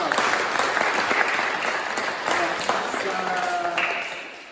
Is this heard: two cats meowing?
no